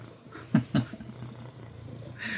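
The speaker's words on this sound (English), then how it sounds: "I hear very loud purring." A cat purrs close by in a short burst, with two louder rumbling pulses followed by a softer, steady low purr.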